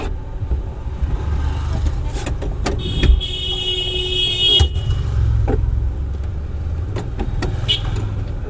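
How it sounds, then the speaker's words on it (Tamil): A driving school car's engine idles with a low, steady rumble, broken by clicks and knocks inside the cabin and a high whirring like a power window. "வண்டி ஸ்டார்ட்டில் இருக்கு, ஆஃப் ஆகல."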